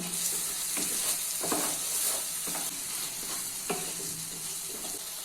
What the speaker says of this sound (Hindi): अभी इसमें 1 चम्मच नमक ऐड कर लेना है और मिक्स कर लेना है।